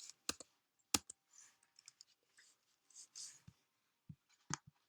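Crisp keystrokes on a computer keyboard, typing a short word into a tags field, come in quick irregular bursts with brief pauses, close and fairly quiet, with no talking.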